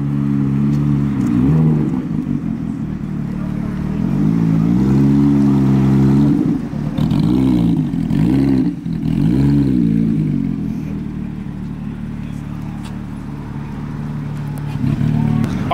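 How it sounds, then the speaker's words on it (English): Porsche GT3 RS on centre-lock HRE wheels pulling in at a supercar show, its engine note rising and falling through several swelling revs, loud and close, with crowd murmur around it. "We got the GT3 RS pulling in."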